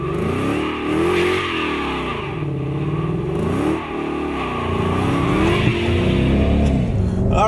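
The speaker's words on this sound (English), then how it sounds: "what better way to start off our Power Pack with the 2011 GT with a nice big smoky burnout" A 2011 Ford Mustang GT with aftermarket exhaust does a burnout, the engine roaring loud and close with rising and falling revs and a steady rough drone of spinning tyres throughout.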